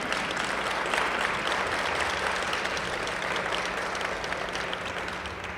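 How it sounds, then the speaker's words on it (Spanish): Audience applauding author Ethel Krauze at the FIL Minería 2019 book fair: a dense, steady round of clapping from a seated crowd that holds at an even level for several seconds and eases slightly at the end. "Les pido un aplauso para Ethel"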